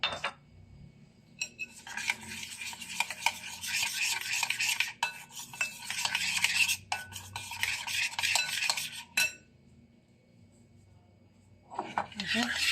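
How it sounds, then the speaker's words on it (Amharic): A utensil stirs a fried chicken mixture in a pan after lemon has been added, giving scraping, rubbing strokes in two long bursts with a brief pause between them and a short final scrape, close and moderately quiet. "በዚህ መልኩ በደንብ አማስያለሁ።"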